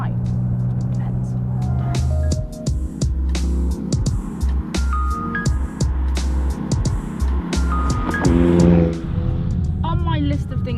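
A McLaren sports car drives at a McDonald's. The engine revs and rumbles up close with gear changes and brief surges, under people talking throughout.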